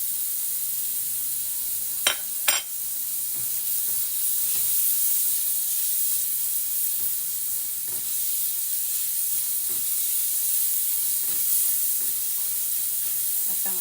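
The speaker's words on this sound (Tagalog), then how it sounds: "Ilagay na rin natin ang ating kamatis." Tomatoes sautéed in a pan with garlic sizzle in a steady, even hiss, with a couple of sharp clinks near the start and faint soft stirring knocks throughout.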